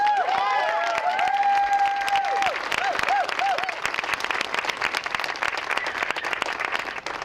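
Crowd applause welcoming the governor at an education equity event at the Salem Capitol, loud and sustained for about seven seconds, with a few whistle-like tones sliding through the first few seconds.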